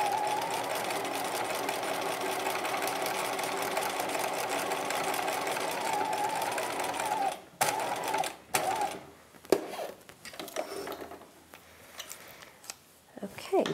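A sewing machine runs a steady line of gathering stitches about a quarter inch from an earlier row on a 1950s-style Lamour halter dress bodice, humming continuously for several seconds before stopping and restarting in short bursts.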